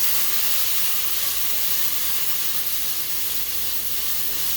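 Sweet chili meatballs sizzling in a hot wok, a steady loud hiss and crackle of frying that continues evenly throughout without talking.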